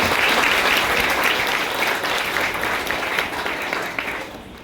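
Enthusiastic crowd clapping at a ceremony honoring women police officers, a thick, continuous burst of applause that holds strong and tapers off in the final second.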